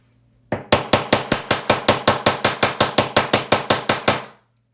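Jewelry wire is hammered flat near a pendant bail with about seventeen quick, even metallic taps in a steady rhythm. The taps are close and sharp, each ringing briefly, and they stop abruptly with no talk.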